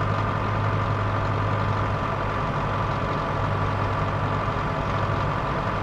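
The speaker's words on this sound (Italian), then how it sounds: "grande trattore, Landini" A big Landini tractor in Farming Simulator 22 runs a steady, loud engine drone with an even low rumble and a constant idling hum. It continues throughout with no other sounds on top.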